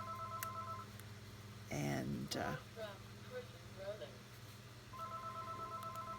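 A telephone rings indoors with a repeated electronic trill, one burst near the start and another toward the end, while a person talks quietly in between.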